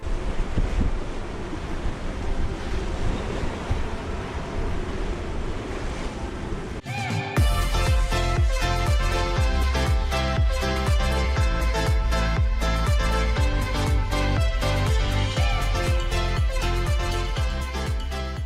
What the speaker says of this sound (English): We enter the Gulfstream. We're scared, aren't we? Yeah. The waves start to get quite spiky.